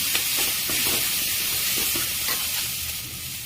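Vegetable pieces, including bottle gourd, frying in browned ginger garlic paste for pappu charu, a loud continuous sizzle and hiss close up with soft stirring scrapes throughout.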